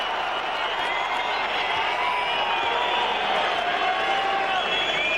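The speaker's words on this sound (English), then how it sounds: "But as you can hear from the crowd, Klitschko back in action in a big way." A boxing arena crowd at the Chris Byrd vs Wladimir Klitschko heavyweight fight sends up a continuous roar of cheering, broad and sustained at a fairly loud, distant-sounding level with no clear break.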